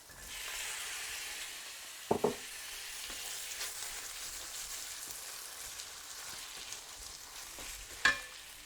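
Tomatoes dropped into a hot frying pan with chili for homemade matar paneer, giving a steady low sizzle with a couple of sharp clatters of utensil or pan contact, heard alone without talk.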